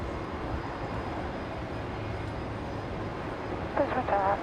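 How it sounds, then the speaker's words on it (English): Virgin Fokker 100 airliner taxiing past at Brisbane airport, a steady broad engine rumble and hiss held throughout, with a brief radio-like voice chatter near the end. "Virgin 1104 just taxiing on by there. The Fokker 100, which is heading to Newcastle."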